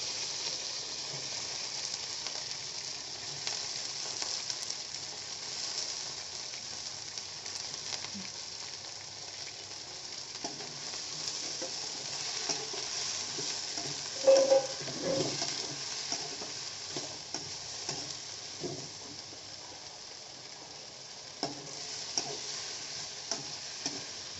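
Eggplant frying in a pan with a steady, close sizzle throughout while it is stirred, producing scattered scraping clicks and one brief louder clatter midway, with no talking.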